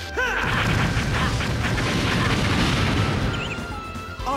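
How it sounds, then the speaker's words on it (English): A big explosion in the Naruto Shippuden: Clash of Ninja Revolution 3 fighting game, a loud sustained blast with a rumbling boom and crackling debris that fades near the end, with brief game voice chirps around it. "Art is an explosion!"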